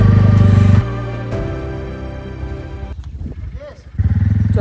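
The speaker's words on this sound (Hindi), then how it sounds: "ये कोल्ड स्टार्ट होने वाला है। एक बार स्टार्ट होती कि नहीं।" A motorbike engine in the Spiti Valley idles after a cold start, a loud close rumble that drops back, then revs again near the end, with a voice speaking over it.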